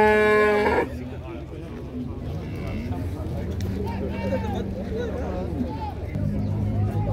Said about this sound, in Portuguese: tem esse boi aqui também